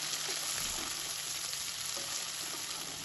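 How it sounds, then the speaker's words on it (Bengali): Onion and chopped tomato fry in oil for a pumpkin-stem chorchori, a dense even hiss of sizzling held at a constant level throughout. "পেঁয়াজ ও টমেটোটা তেলে হালকা ভেজে নিয়েছি"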